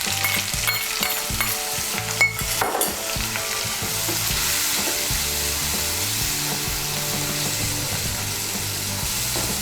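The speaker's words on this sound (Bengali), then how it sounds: "মিশিয়ে নিয়ে মশলাটাকে ভালো করে কষিয়ে নেব।" A ground spice paste of cumin and coriander powder sizzles and crackles in hot oil while being stirred and scraped in the pan, for a Bengali cauliflower and katla fish curry; steady close frying noise with occasional utensil knocks.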